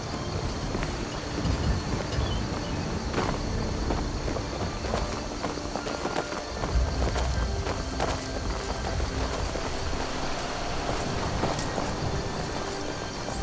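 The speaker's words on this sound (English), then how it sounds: "Damn, those horses are noisy." Horses in the video game Skyrim, a continuous patter of hooves clip-clopping at a trot, close and fairly loud, with wind-like ambience behind and sharp thuds scattered throughout.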